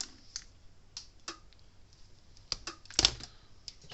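Wire cutters and strippers working on the worn power cord of a Gallagher M1800 electric fence charger, giving a few sharp, close clicks and snips with a strong snap about three seconds in, no talking.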